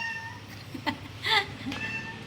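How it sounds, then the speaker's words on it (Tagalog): A hungry pet cat meows close by, with two or three distinct cries, the middle one loudest and drawn out, over a quiet indoor background. "Yung pusa ko, parang awat nyo na, pakainin nyo na."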